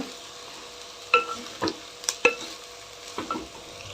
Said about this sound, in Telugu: మంచిగా బాగా కలిసేలాగా కలుపుకున్నాం